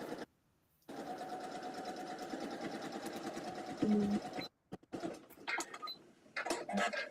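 A sewing machine runs steadily during a live sewing session, its close mechanical whir continuing for several seconds after a brief silence and then breaking into short, uneven bursts with clicks near the end.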